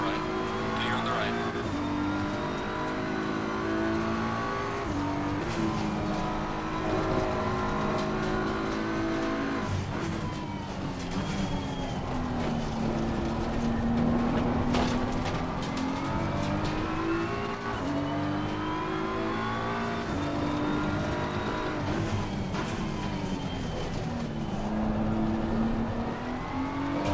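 Race car engines in the sim racing game Assetto Corsa Competizione at Oulton, sustained wailing revs that rise and fall through gear changes, loud and continuous, with a voice talking over them.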